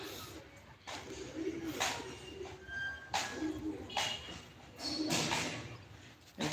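Several soft, low cooing calls from pigeons come in short bursts against steady outdoor background noise, with pauses between them.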